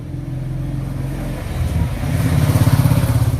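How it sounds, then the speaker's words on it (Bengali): Motorcycle engines rumble close by, the pulsing growl swelling louder toward the end as a bike speeds past. "এত জোরে জোরে বাইকগুলো যায়, ওরা ভয় পায়"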